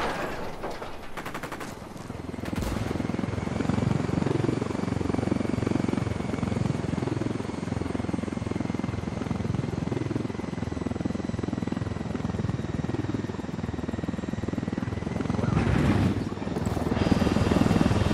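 Helicopter flying in Ghost Recon Wildlands, a loud, steady low rotor drone that runs throughout, mixed with bursts of game gunfire near the start.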